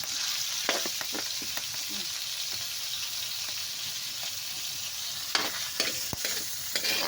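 Spaghetti being stirred in a pan with pork, a steady hiss of frying beneath occasional clinks and scrapes of the utensil, close and moderately loud.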